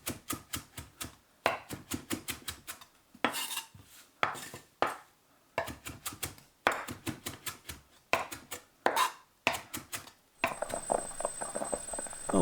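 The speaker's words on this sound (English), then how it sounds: "we can chop some parsley" A knife chops fresh parsley on a cutting board in rapid, rhythmic bursts of crisp taps, pausing briefly between runs, close and clear with no talking.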